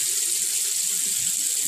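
Tap water runs steadily into a sink as a child's hands are washed, a constant, fairly soft hiss with no talking.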